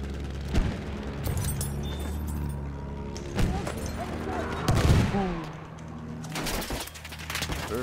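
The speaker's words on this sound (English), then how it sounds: "Enemy machine gun over there!" Machine gun fire in a Battlefield 1 battle, with scattered bursts and single cracks of gunfire over a busy battlefield mix, along with a pigeon-like cooing and in-game voices.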